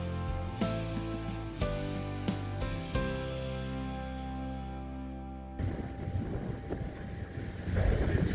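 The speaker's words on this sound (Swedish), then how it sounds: "Det blåser uppe på toppen. Det blåser mycket." Strong wind on a mountain top buffets the microphone in rough gusts, loud and uneven, with the roar swelling again toward the end.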